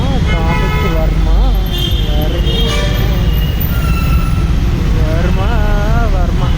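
Busy road traffic in Bengaluru, a steady loud roar of engines with several car horns honking in long and short blasts close by, a continuous wash of noise throughout.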